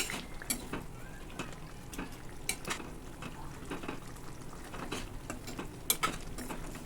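Metal utensils clink and scrape against a pot while stirring chicken pieces for green chicken curry, in a steady, uneven rhythm, close up, with a faint sizzle underneath and no talking.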